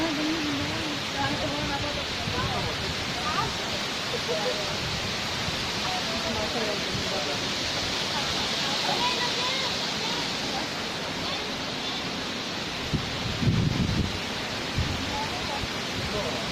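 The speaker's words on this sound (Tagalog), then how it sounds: "Approaching the Sheffield Waterfall." Shifen waterfall in Taiwan roars as a dense, steady wash of falling water, heard from fairly close as it is approached, with no break and a brief louder rumble near the end.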